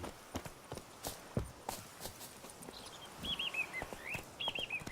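Horse hooves clip-clopping at a steady trot in The Witcher 3 game, sharp regular clops near and moderately loud, with faint bird chirps in the background.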